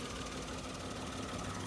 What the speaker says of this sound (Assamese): এইটো চাওক পেট্ৰল ইঞ্জিন হয় একদম নরমাল সাউন্ড